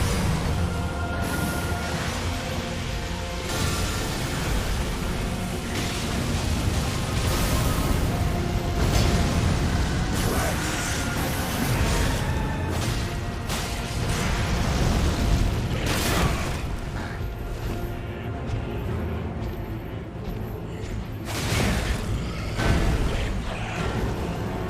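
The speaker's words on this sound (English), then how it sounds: "it explodes, so I don't know if I should be rolling through the explosion" Repeated bursts and booms from a boss's explosive attacks in Elden Ring, dense and loud over a continuous clash of game effects and music, with several sharp blasts spread through the fight.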